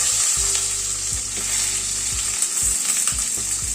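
Eggplant, potato and other vegetables frying in oil in a pan while making a pumpkin-leaf chorchori, a steady close sizzle broken by a few soft stirring knocks.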